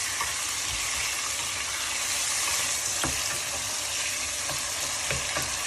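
Large pieces of tomato fry in a pan for a restaurant-style chicken karahi, giving a steady, loud sizzle with occasional pops and stirring scrapes, and no talking.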